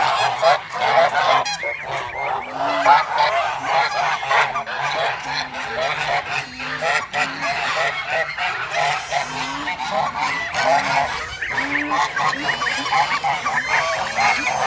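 A flock of large Kholmogory geese honks over and over, loud and close, with overlapping calls in an uneven rhythm and no talking.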